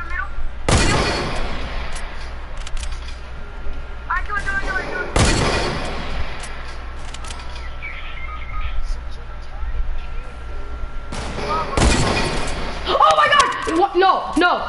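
Loud sniper shots from the video game Fortnite, three sharp cracks spaced several seconds apart with a long ringing tail, over a game background and some talking.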